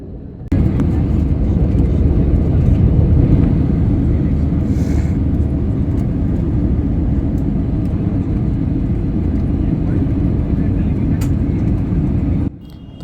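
Steady, loud low rumble of an airliner landing at Kolkata airport, heard from inside the cabin; a continuous broad roar holds for about twelve seconds, then cuts off abruptly near the end.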